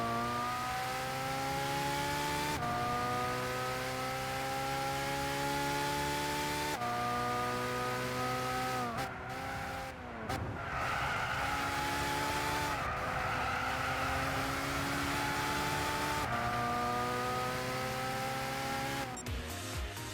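Race car engines in Gran Turismo 6 rev and whine through repeated upshifts, with tires squealing and skidding midway, a continuous loud in-car engine drone with no voices.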